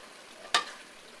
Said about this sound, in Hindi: इसको थोड़ा सा तेज़ आग करके हिला देंगे।